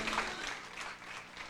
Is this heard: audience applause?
yes